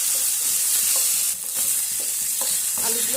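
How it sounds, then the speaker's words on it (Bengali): Potatoes frying with turmeric in a wok get stirred, with short scraping and clinking spatula strokes over a constant close sizzle and hiss, no voices. "হলুদের গুঁড়ো দেওয়ার পর আলুগুলোকে এইভাবে আবারও নেড়ে চেড়ে নেব"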